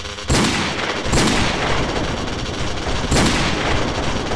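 Gunfire in the GTA San Andreas DayZ mod, with loud sharp shots cracking at irregular intervals over a continuous booming roar and no talk over it.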